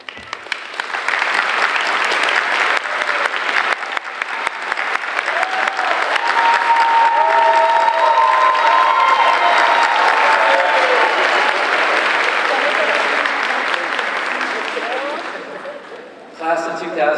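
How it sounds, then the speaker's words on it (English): Sustained applause from a graduation crowd for faculty and staff, loud and dense and holding steady for about fifteen seconds before it fades out. "applause."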